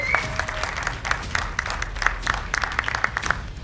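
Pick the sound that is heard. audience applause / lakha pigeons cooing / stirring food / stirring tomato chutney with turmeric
audience applause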